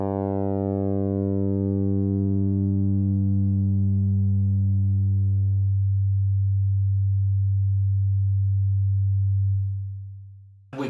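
A single sustained synthesizer note from the Pulsor sequencer, loud and rich in harmonics, holds steady. Its bright upper overtones drop away partway through, leaving a deep hum that then cuts off.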